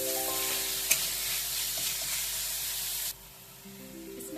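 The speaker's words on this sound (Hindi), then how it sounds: "अब हम इसमें कटा हुआ प्याज, मिर्च और शिमला मिर्च भी डाल देंगे। और इसे अच्छे से हम भून लेंगे।" Chopped onion, chili and capsicum frying with corn for crispy corn, a steady loud sizzle with a brief clatter near the start, dropping to a quieter crackle partway through as the pan settles.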